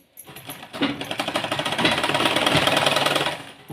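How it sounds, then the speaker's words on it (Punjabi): A sewing machine runs a continuous rapid stitching rattle along the side seam of a suit, starting after a brief pause, staying loud and close, then stopping near the end. "ਫਿਰ ਆਪਾਂ ਇੱਥੇ ਰੱਖ ਕੇ ਸਿਲਾਈ ਲਗਾ ਲੈਣੀ ਆਪਣੀ ਸਾਰੀ ਆਪਾਂ ਸਿਲਾਈ ਲਗਾਉਣੀ ਆ"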